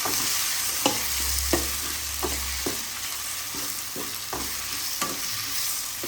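Tomatoes and onions sauté in a pan for a village-style Tamil fish curry, with a loud continuous sizzle under regular scraping strokes of a stirring spoon.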